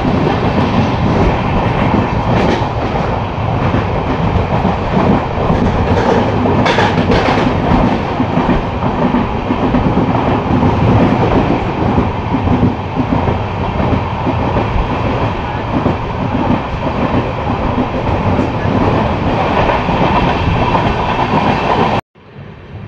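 The Kolkata-Sairang Express rolls steadily along the rails for over twenty seconds on its first commercial run, with continuous loud wheel rumble and clickety-clack from the coaches near Murshidabad Junction, ending in an abrupt cut.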